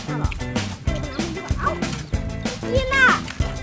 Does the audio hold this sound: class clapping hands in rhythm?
no